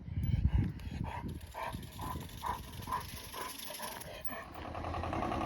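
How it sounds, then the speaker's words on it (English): A dog on a zip line barks repeatedly in a quick rhythmic series nearby, while a motor hums steadily underneath. "This dog came at me on a zip line."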